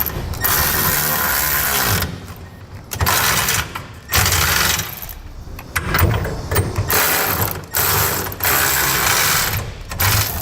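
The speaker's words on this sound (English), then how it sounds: "we'll start tightening the 8 bolts that hold our cross rails to our center section" A ratchet clicks rapidly in repeated bursts, close and loud, while tightening the bolts holding a B and W gooseneck hitch's cross rails to its center section on a 2007 Toyota Tundra, with short pauses between runs.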